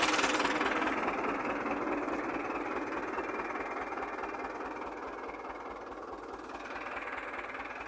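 A Valmet tractor pulls a disc harrow through dry, sandy soil. Its diesel engine drones steadily with a fast rhythmic low-end thumping, loud and continuous throughout with no talk.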